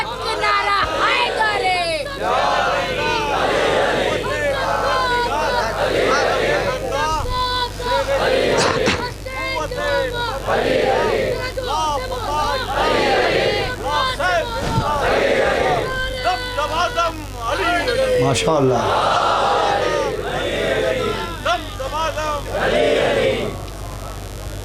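Large crowd at a Shia majlis chanting religious slogans in loud, repeated bursts, many voices overlapping with a preacher's voice and babble throughout.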